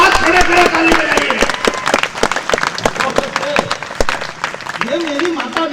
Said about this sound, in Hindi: आप जरा हाथ खड़े खड़े ताली बजाइए।